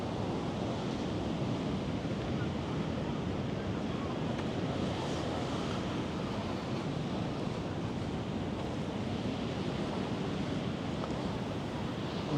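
Steady broadband wash of ocean surf on a beach in Crete, Greece, continuous and fairly loud with wind buffeting the microphone and no clear breaks between waves.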